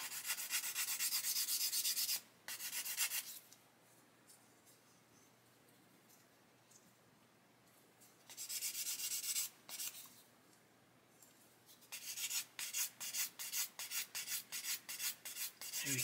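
Sandpaper rubbing over a seam on a plastic model barrel, heard up close in quiet. It starts as a steady scratchy rasp, pauses, returns in a short burst, then ends in a run of quick rhythmic strokes.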